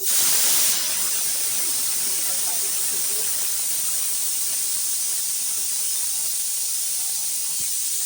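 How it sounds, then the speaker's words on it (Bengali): Pressure cooker boiling potatoes in a home kitchen, releasing a steady, close, continuous steam hiss that runs unbroken throughout, slightly louder at the very start. "কুকারে কি হচ্ছে? বন্ধ করতে কুকারটা, আলু সেদ্ধ হচ্ছে।"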